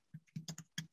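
Quick keystrokes on a computer keyboard during a live coding stream, about half a dozen light clicks in a short uneven burst, close and fairly quiet.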